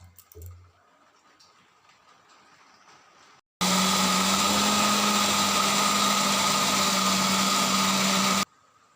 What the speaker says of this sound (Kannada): ನೆನೆಯಲಿಕ್ಕೆ ಹಾಕಿದ್ದ ಅಕ್ಕಿಯನ್ನು ಮಿಕ್ಸಿಗೆ ಹಾಕಿಕೊಳ್ಳಿ